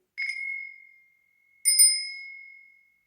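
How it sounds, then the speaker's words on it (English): Small bells ring twice during a tarot-style card reading, each strike a clear bright ding that rings out and fades slowly, alone in the quiet. "we have here also these bells"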